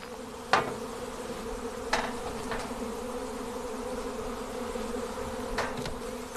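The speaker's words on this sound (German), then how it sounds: "Vorsichtig schaut er nach seinen Bienen." Bees buzz around beehives as a beekeeper checks them after the long winter, a steady close drone broken by a few sharp clicks or knocks.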